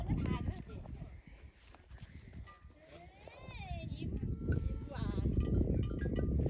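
Goats bleat on Dronningstien, a Norwegian mountain trail, a few wavering cries rising over close hikers' chatter and wind, with a cowbell clanking faintly nearby.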